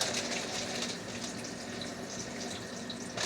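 Tap water runs while something is rinsed in a sink, a quiet, even splashing flow lasting a few seconds with no one speaking.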